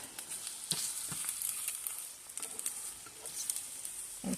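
Eggs with Red Hot sauce frying in a pan alongside pasta, giving a steady close sizzle with scattered crackles and pops throughout, no voices.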